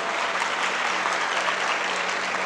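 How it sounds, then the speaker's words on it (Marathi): Women seated in a lecture audience clap loudly and continuously, a thick uniform patter of many hands filling the whole stretch. "महिला मंडळ एकदा तुम्ही आबांसाठी जोरदार टाळ्या वाजवा"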